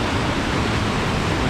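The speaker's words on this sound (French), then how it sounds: "Il y a une petite cascade qui est bien sympa." A small mountain waterfall on the Col de la Cayolle pours in a steady, loud, broadband rush, continuous and close with no break or voices.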